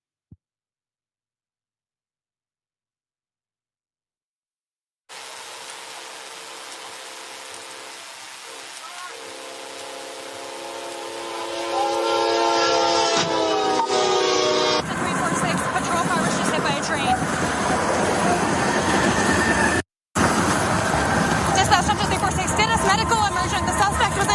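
A train strikes a police car parked on the railroad tracks: after silence, a steady loud roar builds and swells into a heavy crashing, grinding rumble that continues near and loud, briefly cut off, with faint voices underneath.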